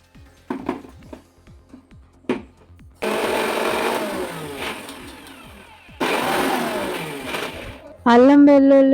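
A kitchen mixie grinds ginger and garlic in bursts, loud whirring runs of a few seconds each, with short clicks and a tonal whine at the end.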